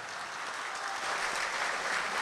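A mushaira audience greets the poet Jauhar Kanpuri with continuous, fairly soft applause that stays even from start to finish.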